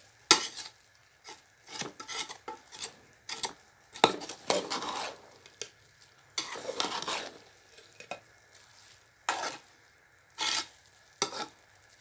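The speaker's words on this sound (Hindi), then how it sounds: "अब हम इसको थोड़ा सा मिक्स कर लेंगे और आंच बिल्कुल हल्की कर देंगे" Murtanjan rice being stirred in a cooking pot over low heat, giving short repeated scraping and rustling bursts in an irregular rhythm, close and moderately loud, with no talking.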